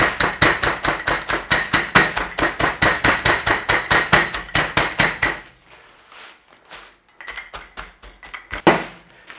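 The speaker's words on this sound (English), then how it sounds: "I will put the digestive biscuits in a bag and we're going to give it a mashing" Digestive biscuits being crushed in a bag for a no-bake strawberry cheesecake base: loud, rapid, regular pounding blows for about five seconds, then a few scattered, quieter bashes and crunches.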